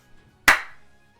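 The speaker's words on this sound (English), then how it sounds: "I clapped." One sharp hand clap, close and loud, with a short ringing decay in an otherwise quiet room.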